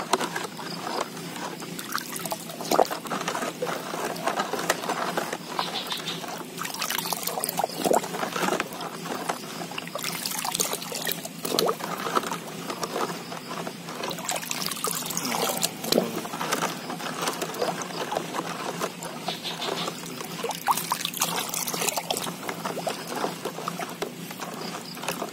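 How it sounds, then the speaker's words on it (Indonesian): Goat manure mixed with EM4 and liquid is stirred until runny, giving a continuous wet sloshing and scraping with irregular splashy strokes, fairly close and with no talk. "Jadi ini aduk dulu ya sampai encer."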